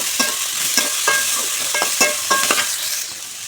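Chopped tomatoes and a little coconut stir-fried in a pan for a homemade mutton masala: a steady sizzle broken by repeated scraping spoon strokes, close and fairly loud, with no talking.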